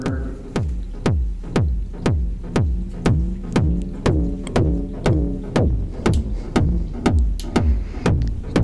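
A steady XAOC Koszalin modular synth pulse repeats in a throbbing rhythm, each note ringing out into a washy reverb tail, with shifting tones sweeping through the middle.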